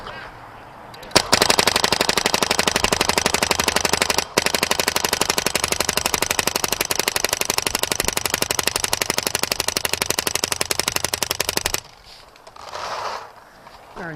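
An Angel Fly Joy Division paintball gun firing a rapid, continuous string of evenly spaced shots for about ten seconds with one brief pause, loud and close, followed by quieter handling noise.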